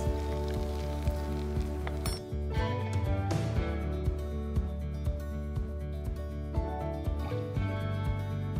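Ginger paste and finely chopped onion sizzle and crackle in hot oil for a dal tadka, a steady bright hiss with scattered pops and spatters under a sustained low background drone.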